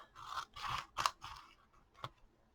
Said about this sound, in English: Let me trim all that off